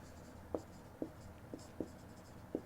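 Chalk or marker strokes on a classroom board, five distinct taps or scratches spaced about half a second apart over a faint hiss, no talking.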